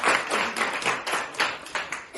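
A group claps at an event celebrating the girl child, producing close, fairly loud bursts of hand claps in a loose repeating rhythm.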